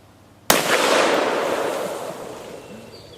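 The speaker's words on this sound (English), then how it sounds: "that was 3 shots, and I'm still alive" A single sharp, loud blast from a Smith & Wesson 500 Magnum revolver fired outdoors, ringing out with a long, decaying echo over about three seconds.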